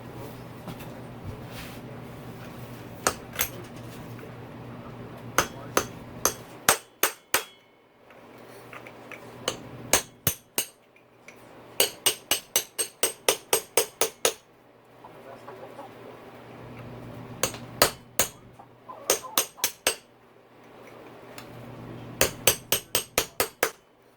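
A hammer strikes a metal punch to loosen a rod on a KTM 250SX motorcycle being fitted with a BRC Racing 500cc conversion kit, with sharp ringing blows in quick rhythmic bursts and short pauses between them, close and loud, over a low background hum.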